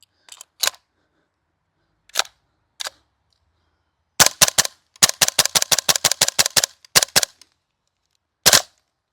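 Double Eagle DWS Lupus gas blowback airsoft rifle running on a green gas magazine, fired close by: a few isolated sharp cracks, then a quick string of snappy shots in rapid succession, then a final lone shot.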